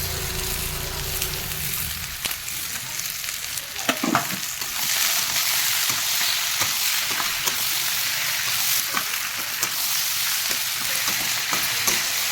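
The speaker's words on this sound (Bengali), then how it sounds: "ডুমুর আর আলুটা ভাজা ভাজা হয়ে গেছে আমি এবারে মটরশুঁটি আর টমেটোটা" Figs, potatoes, peas and tomatoes fry in a pan with a steady loud sizzle, broken by occasional stirring scrapes and clicks, and no talking.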